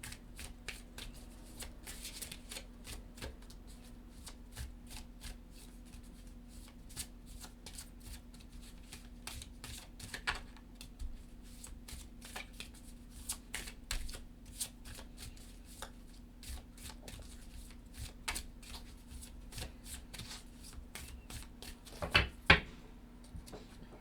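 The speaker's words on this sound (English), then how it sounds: "When I was shuffling the cards" Oracle cards are shuffled by hand over a long stretch, a close series of soft riffling and flicking bursts with brief pauses. A low steady hum sits underneath, and no one speaks.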